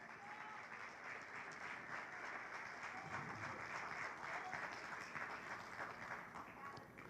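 A church congregation applauds in a long, even wash of many hands clapping, fairly distant and faint, sustained for several seconds without a break.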